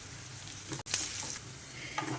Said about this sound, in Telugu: ఈ టిల్లి కర్రీకి ఉల్లిపాయలు ఇలా కొంచెం ఎర్రగా వేగాలి